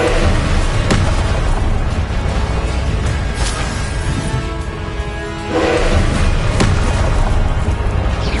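Confringo blasting spells exploding in Hogwarts Legacy, loud continuous booming blasts with crackling bursts and several sharp impacts, dense and close, no voices.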